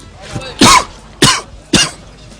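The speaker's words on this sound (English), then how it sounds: "I'm coughing every 5 minutes." Three harsh coughs from a bad cold in quick succession, close and loud, with a short breath before the first.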